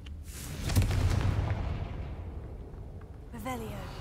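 A Confringo blasting spell in Hogwarts Legacy bursts into a deep rumbling explosion that swells and slowly fades over a couple of seconds, followed by a short rising magical tone, with a voice briefly heard.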